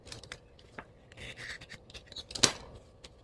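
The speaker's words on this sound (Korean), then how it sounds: "연결된 부분 그걸 자기가 자르는 거예요. 이렇게 연결되어 있는 부분 있죠. 이렇게 이거 자르는 거예요." Scissors snipping through folded paper while a mini book is being cut out, a few close, short crisp cuts with one sharper snip near the end, quiet and alone without talk.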